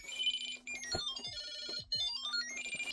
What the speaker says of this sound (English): I'm going to play that nice ringtone.